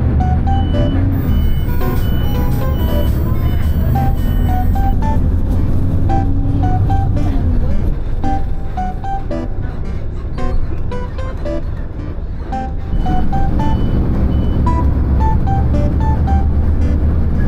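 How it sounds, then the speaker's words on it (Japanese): City bus route 666 in Taipei, a steady loud engine rumble with repeated electronic beeps and chimes inside the vehicle, the drone dipping briefly midway before returning. "バスが来たので行きましょう。"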